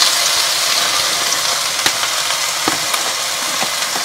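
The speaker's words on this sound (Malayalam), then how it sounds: "അപ്പം ഞാൻ ഈ അരിഞ്ഞു വെച്ചിരിക്കുന്ന പാവയ്ക്ക അതിലകത്തേക്ക് ഇടുവാണ്." Chopped bitter gourd fries in hot oil for a Kerala theeyal, giving a steady, loud sizzle with occasional light clicks of stirring against the pan.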